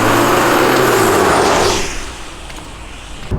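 A Jaguar XE 30t R Sport car driving, a loud steady engine and road roar that fades partway through to a quieter cabin hum, with no talking.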